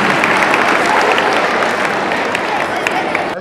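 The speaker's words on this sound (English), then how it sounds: "So please have a big round of applause for Himani." Applause from an audience at a school dance competition held for International Dance Day, a dense, steady wash of clapping that keeps up evenly for the whole stretch, fairly loud and close.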